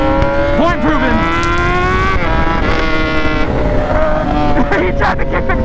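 Motorcycle riding on a road with a friend on another bike, a steady close engine drone with rising and falling pitch sweeps as the rider shifts, loud and continuous throughout under wind.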